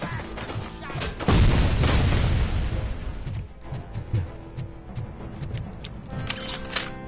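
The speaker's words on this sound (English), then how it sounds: "Threw a grenade." A loud grenade blast in RoboCop: Rogue City booms up suddenly and rolls off over a couple of seconds, followed by scattered smaller impacts and game noises.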